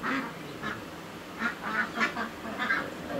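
Ducks on a duck farm giving several short bursts of quacking, moderately close, in uneven clusters with brief pauses between them.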